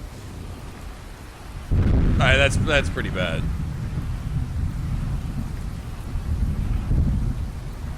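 Rolling thunder and steady rain from a storm in the video game Skyrim, a low rumble swelling in after a quiet start, with someone talking briefly over it.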